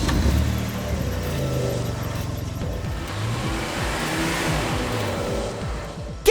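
Monster truck engines rumble and rev together at the start of a race, a loud, continuous low roar with rising and falling revs and a sharp burst at the very end.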